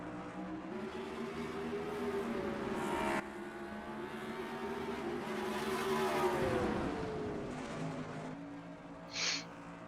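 Race cars roaring around Eldora Speedway in the NR2003 racing game, engines whining and shifting pitch as they battle through turn one, a steady layered drone with a brief higher burst near the end.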